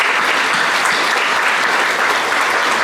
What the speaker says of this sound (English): a round of applause for these guys.